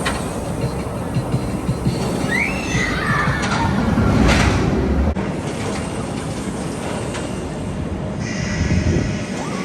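Oblivion, a B&M dive roller coaster at Alton Towers, roars steadily with continuous rumbling track noise, a loud surge in the middle, and faint distant screams and park ambience throughout.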